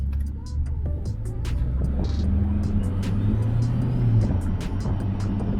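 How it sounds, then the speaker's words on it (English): A modified Ford Falcon engine rumbles steadily with a deep low drone, the growl rising slightly as it passes or accelerates, with light background noise. "Man, his car sounds just so good."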